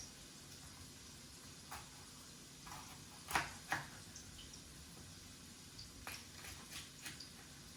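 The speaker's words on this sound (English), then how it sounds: "we continue cutting the peppers into smaller bits" Peppers, the green one last, are cut on a crowded cutting board for an orzo risotto. Sparse faint knife taps and clicks come at irregular intervals, with two sharper chops near the middle, over a quiet kitchen background without talk.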